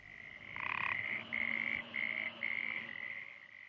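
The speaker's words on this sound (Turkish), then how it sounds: "Gelenler önce kurbağa sesinden başka bir şey duymadılar." Frogs croak at night in a dense chorus: one loud, high, trilling caller repeats in regular pulses over a steady background of fainter croaks. No voices are heard.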